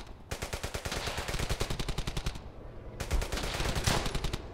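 Machine gun fire in Brothers in Arms: Hell's Highway, two long rapid-fire bursts of sharp evenly spaced shots separated by a short gap, close and prominent with no talking.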